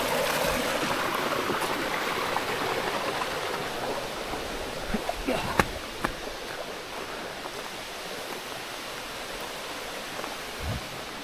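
Water pours steadily at a small waterfall on the trail to the Yana Caves, a constant close rushing hiss with a few faint knocks but no voices.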